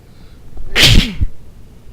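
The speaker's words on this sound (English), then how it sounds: "I apologize for that sneeze" One loud, close sneeze from a man at his gaming setup, a sharp burst with a short intake before it and quiet on either side.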